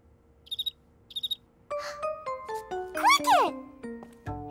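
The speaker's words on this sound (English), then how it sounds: "Cricket!" A cartoon cricket chirps in two short, bright bursts near the start, followed by a bouncy run of tones and a rising whoosh.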